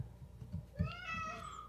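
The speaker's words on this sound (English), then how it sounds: "We have a ghost cat." A cat gives one drawn-out meow, close to the microphone over faint room noise and low bumps, with no speech.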